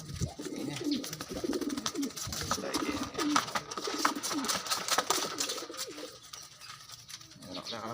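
Young pigeons coo in repeated soft, throaty bursts close by, with scattered rustling and clicks around them and a quieter tail at the end.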